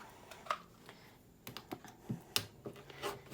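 A rotary cutter cuts through thick folded fabric on a cutting mat, making faint scattered clicks and short scraping ticks in quiet, irregular bursts, close by, with no talk.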